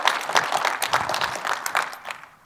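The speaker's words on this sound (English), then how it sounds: "Please join me, a round of applause for Plavi, Francis, and Anne-Marie" Audience applause at a public panel event on reconciliation and anti-racism, a dense steady clapping from a crowd that fades out toward the end.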